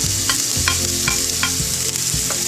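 Ginger and garlic frying in hot oil in a wok, a steady loud sizzle broken by several sharp scraping stirs of a spatula against the pan, close up with no talking.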